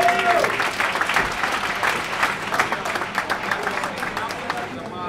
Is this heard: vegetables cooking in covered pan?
no